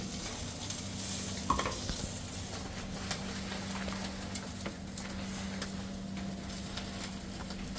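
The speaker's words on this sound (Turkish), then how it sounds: "Sacda kızartıyoruz hocam." Meat frying on a sac griddle at a Hatay street food stall, a continuous soft sizzle with a steady low hum and occasional light clinks and scrapes.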